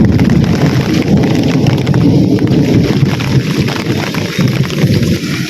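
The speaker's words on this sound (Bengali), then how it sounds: "প্রচণ্ড পরিমাণে বৃষ্টি এটা কল্পনার বাইরে" Heavy monsoon rain pours down on a village home, a loud, dense, continuous roar with wind rumble throughout and no voices.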